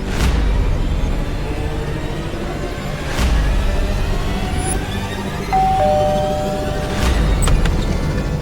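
A doorbell rings twice, clear electronic chimes spaced a few seconds apart, over a steady background hum and ambience in a TV drama scene.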